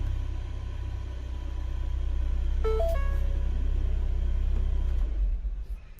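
A Ford Fiesta ST Mk7 engine idles steadily after its immobiliser is disengaged, a constant low rumble throughout with a brief electronic beep sequence near the middle before the sound fades at the end.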